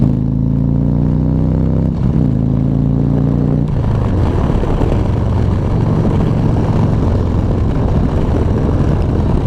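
A 2015 Harley-Davidson Street Glide motorcycle accelerates hard, its engine rising steadily in pitch through the first few seconds, then a shift drops into a loud, rough, sustained roar with heavy wind rush, close and continuous.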